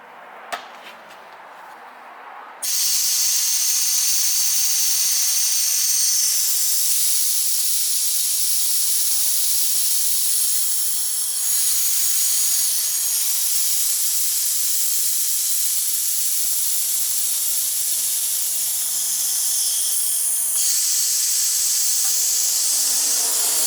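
A loud, steady hiss of a compressed air spray gun at about 50 psi, spraying Rust-Oleum paint on a tailgate, starts after a quiet moment and runs continuously, with brief dips and surges in pressure.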